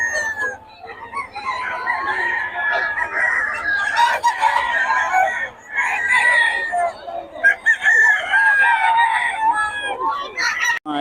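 Chickens and roosters at a poultry seller's, crowing repeatedly and clucking near and far in a dense, continuous chorus, with faint voices murmuring beneath the birds.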